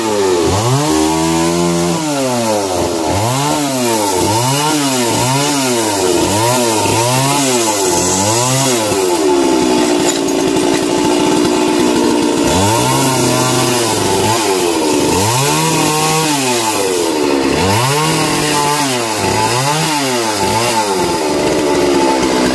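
A chainsaw cuts into king palm trunks, its loud engine revving up and down in repeated cycles, bogging under load and rising again, with a brief idle between cutting passes.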